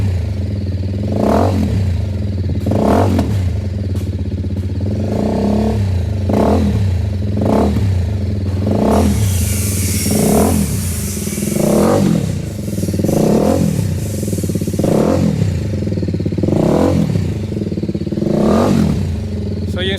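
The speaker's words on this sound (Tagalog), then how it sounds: "And then we'll rev it a little bit na. Rev muna siya konti." A motorcycle fitted with an aftermarket exhaust, a BMW G 310 R or Kawasaki Ninja 650, revs repeatedly in loud, evenly spaced throttle blips over a steady deep idle, close by with no talking.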